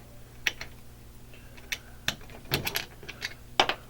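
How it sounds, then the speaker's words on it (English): A screw being backed out of a paintball marker receiver, with small metallic clicks and ticks scattered irregularly, near and fairly quiet, no talking. "And I got one more to remove right here, so we're just going to remove that one."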